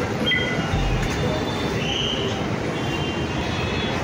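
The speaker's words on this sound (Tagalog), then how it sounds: "We will go now by train." An MRT train in Luzon rolls along with a dense, continuous rumble and faint wheel squeal, loud and close throughout, with a little speech buried underneath.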